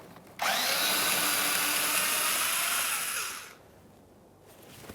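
A power tool whirs loudly for about three seconds, spinning out 7mm mounting bolts from a 2013-2020 Ford Fusion inner fender liner, then winds down into quiet.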